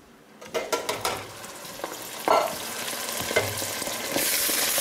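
Crushed tomatoes with chilies hitting a hot pan of seasoned taco meat, giving a sudden rising sizzle with a few scraping stirs, close and fairly loud with no voices.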